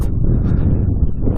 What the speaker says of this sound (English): So the wind is coming from the west over here and blowing this way